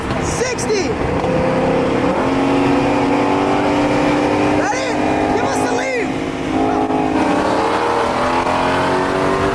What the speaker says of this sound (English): Every time he shifts, man, that dual clutch shifts like clockwork.